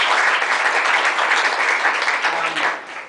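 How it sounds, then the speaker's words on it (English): An audience claps in a sustained round of applause, fairly loud and even throughout before fading at the end. "I'd like to give them a round of applause for it."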